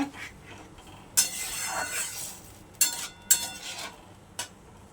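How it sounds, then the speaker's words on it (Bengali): Pointed gourd curry stirred in a pan with salt and a splash of water, giving a few sharp clinks and scraping swishes of a spoon against the pan, close and fairly quiet with soft gaps between strokes. "ভালো করে নেড়ে নেব।"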